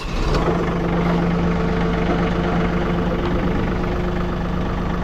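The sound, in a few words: tractor engine idling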